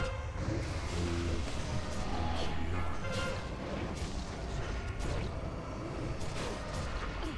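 An explosion during a video game boss fight, rendered as a loud, sustained wall of booming, crackling blasts that rumble on without a break.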